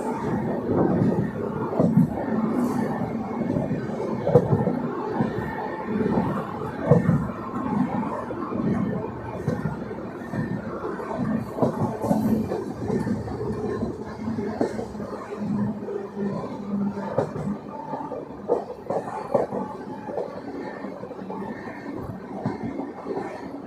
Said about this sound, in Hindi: Sivaganga express overtake.